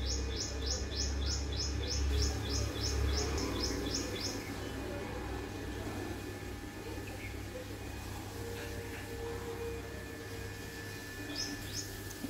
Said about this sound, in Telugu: ఇక రామచిలుక వచ్చి కూర్చుంది చూడండి